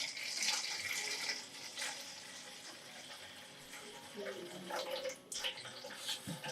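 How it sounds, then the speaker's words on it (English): Water poured into a whole wheat sourdough mix at a bread-making class, a steady splashing pour with a brief gap near the end, heard close with faint voices in the room. "We're going to put in the water."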